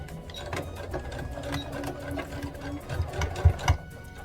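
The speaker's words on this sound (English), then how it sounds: "lining up with the 1 centimeter line, and I'm going to back stitch." Sewing machine back stitching fabric for bear overalls, a close, quick rhythmic run of stitches with a few heavier knocks toward the end.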